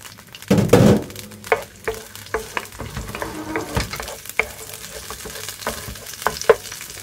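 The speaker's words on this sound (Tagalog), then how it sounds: "Tapos, gisahin na natin ngayon ang garlic." Garlic sautéing in olive oil in a pan for mushroom cooking, with a strong sizzle that swells early, then steady frying broken by repeated utensil scrapes and light clinks from stirring.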